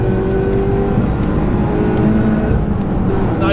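A Peugeot 308 race car accelerates hard around the Nürburgring, its engine a loud, steady, close drone with a rising pitch and constant whirring road noise throughout.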